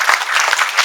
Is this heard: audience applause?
yes